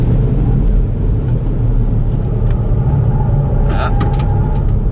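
A 2018 Ford Fiesta ST being driven on a race track, its engine a steady loud rumble inside the cabin throughout, with brief higher squeals near the end and someone talking over it.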